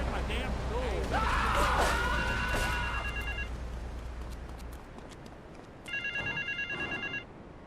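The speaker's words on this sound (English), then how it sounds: "Get to the phone in South Belleville Park." Telephone ringing in the video game Grand Theft Auto III: The Definitive Edition, a repeated electronic ring in two bursts with a pause between, heard over game ambience with some voices.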